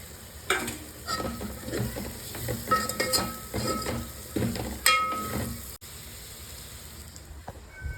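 Bitter gourd pieces tossed into a hot pan of spices and stirred, sizzling steadily with clanks and scrapes of a spoon against the pan, close and alone.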